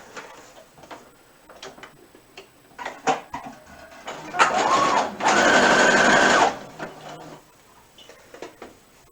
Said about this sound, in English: And we're stitching